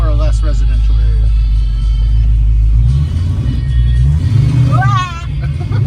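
A Ford Maverick accelerating on a residential street, heard from inside as a loud low engine rumble that swells and revs, with an occupant exclaiming over it.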